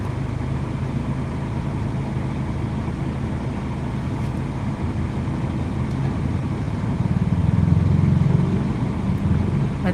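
Vehicles stuck in a road traffic jam give off a steady, fairly loud engine rumble and drone that swells slightly near the end, with no talking.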